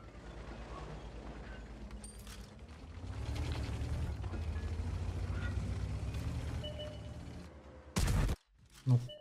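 A 60TP tank gun firing in World of Tanks: a low mechanical rumble of tracks and gears, then one sudden loud blast near the end followed by a short sharp report.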